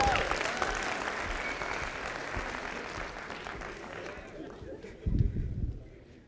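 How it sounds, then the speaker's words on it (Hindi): A seminar audience applauds, a dense burst of clapping that gradually fades toward the end, followed by a brief closer rustle or thump. "जोरदार तालियां हो जाए अपने लिए।"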